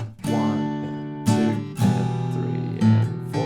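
An acoustic guitar plays a song's intro riff with staccato muted strumming, a few chord hits cut short between choppy rhythmic strums, close and clear with no talk.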